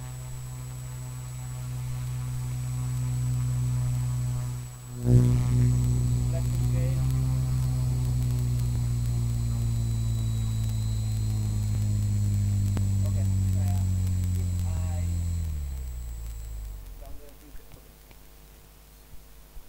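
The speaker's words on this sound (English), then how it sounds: "we can see the fan is started moving" An Arduino-controlled brushless DC motor fan hums steadily at moderate level. The tone climbs slightly after a brief jolt, holds, then winds down and fades out near the end, leaving a quiet room.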